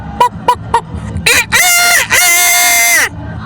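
A man imitates a rooster with his voice: a few short clucks, then two long, loud crowing calls, close to the mic.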